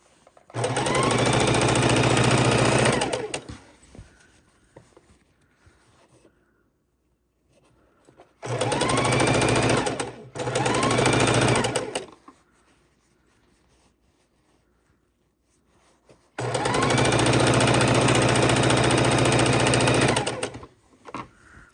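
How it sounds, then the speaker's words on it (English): A sewing machine stitching quilt rows runs in three loud, sustained bursts of rapid mechanical whirring, separated by quiet pauses. "Okay, sewing the third set of 2, so we have a total of 6 rows."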